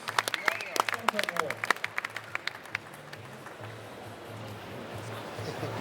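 An audience at the Australian Barista Competition 2019 finals claps for barista Angus Mackie: a burst of scattered, fairly close hand claps for about three seconds, fading into the room's hiss and murmur.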